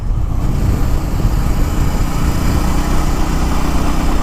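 Bajaj Pulsar N250 motorcycle engine running at low road speed in gear, a steady, close, continuous low thrum that holds at an even level throughout with no talking.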